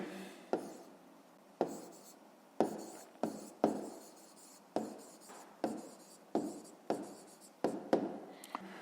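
Pen strokes scratch across paper as a math result is written down, a series of about a dozen short, crisp scrapes at an uneven rhythm, close and fairly quiet with no talking.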